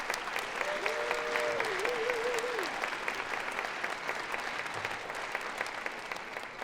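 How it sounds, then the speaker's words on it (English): Audience at a climate comedy special at CU Boulder, Colorado, breaking into long, full applause that fills the room, with a brief whistle or cheer rising early and the clapping carrying on steadily. "So give yourselves a round of applause"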